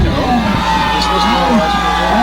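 Wrestling show crowd in the Red River Rumble cheering an over-the-top-rope elimination, a loud continuous roar of whoops and yells filling the arena throughout.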